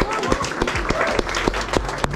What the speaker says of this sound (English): let's give them a round of applause for today